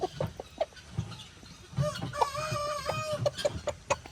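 A friendly rooster out in a yard gives a run of short, close clucks, with one longer tonal call in the middle, all fairly loud and with no talking over it.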